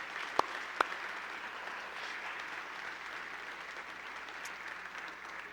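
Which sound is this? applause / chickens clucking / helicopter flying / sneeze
applause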